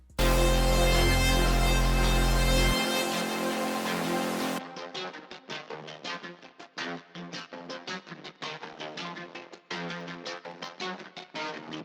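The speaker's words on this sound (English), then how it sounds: "so it went from a 4-bar ARP and then I stretched it all the way to 8 bars," A sustained, buzzing synth chord comes first. The Mexican ARP preset from FL Studio follows, stretched from 4 to 8 bars, as a busy run of rapid, choppy arpeggiated notes, loud and continuous to the end, with no talking.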